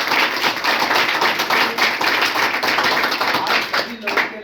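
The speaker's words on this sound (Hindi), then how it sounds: "तो मैं चाहूंगा कि उनके लिए जोरदार ताली होना चाहिए।" Loud, sustained applause from an audience at a training event in Hazaribagh, dense steady clapping filling the whole stretch with a busy, crackling texture and no break.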